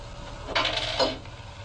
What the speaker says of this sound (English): Jason woke to the unmistakable sound of his closet door opening.